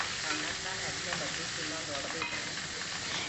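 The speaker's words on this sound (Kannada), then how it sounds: "ಟೊಮ್ಯಾಟೋನ ಕೂಡ ಸೇರಿಸಿ ಟೊಮ್ಯಾಟೊ ಸಾಫ್ಟ್ ಆಗೋ ತನಕ ಫ್ರೈ ಮಾಡ್ಕೊತೀನಿ" Finely chopped tomatoes frying with onions in a pan make a steady close sizzle with light hiss throughout, broken by a few small scraping stirs and no voices.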